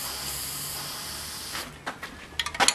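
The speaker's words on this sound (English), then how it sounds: "Turn the can upside down and get the paint out of the nozzle." A spray paint can held upside down hisses in a steady close spray to clear its nozzle, then gives several short sharp bursts toward the end.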